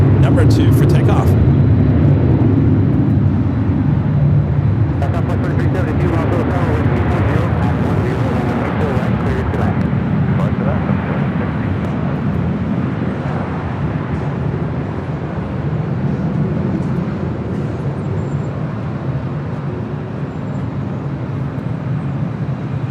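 A Boeing 767-300ER jet airliner takes off at LAX with a steady, loud, broad engine roar that holds throughout, slowly easing, while people talk over it.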